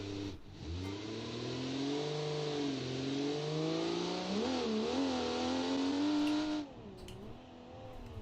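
A supercharged 240 Estate wagon in BeamNG launches and accelerates hard, its engine note rising through the revs, dipping briefly at a gear change, climbing again and cutting off, loud and close.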